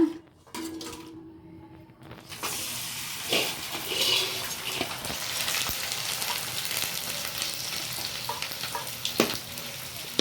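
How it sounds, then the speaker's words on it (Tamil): Tomato pappad (thakkali vathal) seasoned with pepper frying in oil, a near, steady sizzle that starts after a quiet opening, with scraping and clinks of stirring. "தக்காளி வத்தல் போட்டிருக்குறேங்க. வறுத்து காமிக்கிறேன் பாருங்க."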